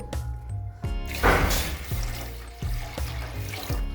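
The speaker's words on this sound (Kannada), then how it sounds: "ಆಮೇಲೆ 1 ಬೌಲ್ ಫುಲ್ ನೀರು ತಗೋಬೇಕು." Water splashes and gurgles into a cooking pot in several bursts, close and fairly loud, with short pauses between pours.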